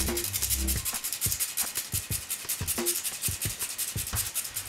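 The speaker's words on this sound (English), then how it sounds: "I'm going to grate the cinnamon." Ceylon cinnamon stick grated by hand, giving a steady run of close, dry rasping strokes with a brief pause partway through, alone without talk.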